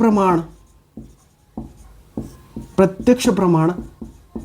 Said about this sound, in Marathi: लिहितो बाबा